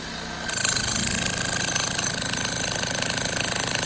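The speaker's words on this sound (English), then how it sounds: "But today, with this hammer drill, we're going to go after it." A hammer drill pounds into rock in a rapid, steady hammering that starts abruptly and runs continuously, loud and close, while digging out pockets of flower quartz and golden barite crystals in Missouri.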